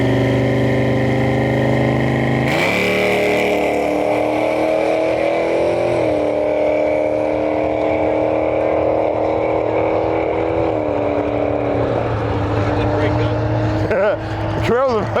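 Drag race at Interlake Dragway between a 5th gen Chevrolet Camaro and a Porsche Cayenne S with a 4.5 liter all-wheel-drive V8: a loud, steady engine roar that surges at launch and holds, with a commentator talking over it.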